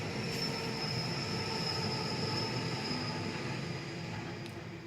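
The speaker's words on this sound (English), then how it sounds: "sorry about the train, there's not a lot I can do about that." A train rumbles steadily past nearby, a continuous low roar with faint high metallic ringing from the rails, holding level before easing slightly at the end.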